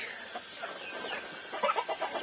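Pet ducks outside a coop at dusk, three of them clamoring to get in, give a run of close, chattering calls that grow louder and more clustered toward the end.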